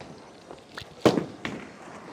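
A Lord Field Blizzard Meltdown bowling ball is thrown down the lane, with a few light knocks as it rolls and then one loud crash of pins partway through, followed by fainter clatter.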